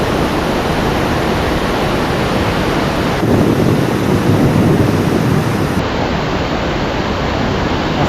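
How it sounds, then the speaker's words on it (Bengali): A Himalayan waterfall on the Kanchenjunga Base Camp trek tumbles through a boulder zone, making a loud, steady, unbroken roar close by with no voices. "সুন্দর লাগছে উপর থেকে এই ঝর্ণাটা পড়ছে"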